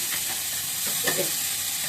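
Onions frying in a pan on a home stove give a steady, close hiss of sizzling, with a few soft stirring scrapes partway through and no voices.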